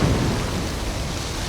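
Steady, dense rain pours down in a continuous wash of noise, with a low rumble underneath and no voices.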